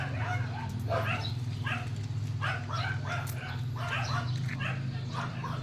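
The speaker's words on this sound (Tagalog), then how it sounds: "Yung mga aso ko." Several dogs bark and yip in quick, excited bursts at a distance, over a steady low hum of background noise.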